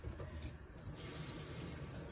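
Warm water runs steadily from a kitchen tap, a continuous soft hiss and splash close by with no talking.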